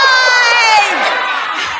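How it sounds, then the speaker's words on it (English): Political rally crowd shouting and cheering in response to a question, a loud, sustained burst of many voices yelling together, dense and close for about two seconds. "let me ask the crowd, what did Trump do?"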